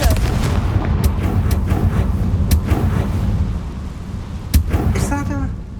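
Confringo fire spell blasting in the video game Hogwarts Legacy, a dense rumbling barrage of booms with sharp cracks, loud and continuous.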